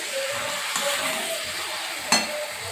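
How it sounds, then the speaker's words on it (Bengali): Chicken pieces and potatoes sauté in a pan, a soft continuous sizzle with faint stirring rustles and one sharp clink of a utensil near the end, close and quiet with no voices. "চিকেনটা আমি খুব ভালো করে কষিয়ে নিচ্ছি"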